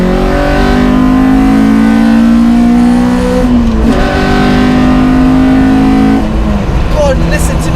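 Honda Civic EK4 with a B18C6 engine and individual throttle bodies accelerating hard through the gears, a loud, close, rising intake howl with a brief dip at a gear change, then climbing again.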